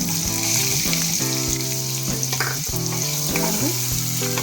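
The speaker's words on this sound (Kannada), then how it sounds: "ಲೋ ಫ್ಲೇಮಲ್ಲಿ ಚೆನ್ನಾಗಿ ಫ್ರೈ ಮಾಡ್ಕೊಳ್ಳಿ" Finely chopped onions fry on low flame in a pan for green chicken chilli, a steady, close sizzle with a bright crackling hiss that runs under melodic background music.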